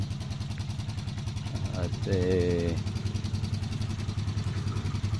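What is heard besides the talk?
new motorcycle engine running during break-in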